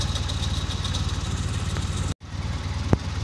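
An old car engine idles with a steady, rhythmic low chugging pulse, cutting out briefly for a moment of near silence before resuming, with a short sharp click near the end.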